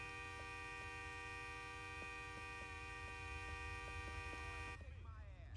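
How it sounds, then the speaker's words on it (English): In GTA 4 on PC, a car horn blares in one long, steady, loud honk lasting nearly five seconds over engine rumble, then abruptly stops. "he wants to go and honk at me"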